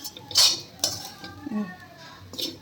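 A metal utensil clinks and scrapes against a pot a few times, close by, as semolina laddu mixture is scooped and moved into another vessel.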